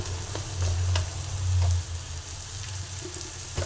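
Egg bhurji sizzling steadily in hot oil, a continuous crackling fry with a faint low hum beneath and no voices.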